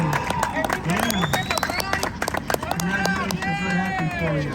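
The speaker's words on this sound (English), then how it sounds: "Let's go ahead and applaud for them." Passengers on a San Antonio river tour boat clap for a newlywed couple, a sustained patter of close applause mixed with cheering and overlapping voices.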